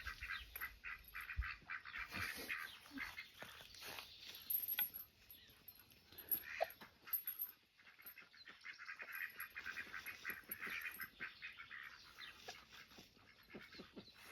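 Ducks and geese honk and quack continuously outdoors, a noisy overlapping chorus at moderate distance with a dog-like bark mixed in.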